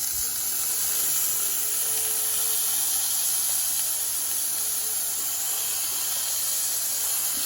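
Onion-topped burger patty smashed flat on a Ninja Foodi XL Pro Grill and Griddle, giving a loud, unbroken hiss of sizzling that holds steady throughout with no talk.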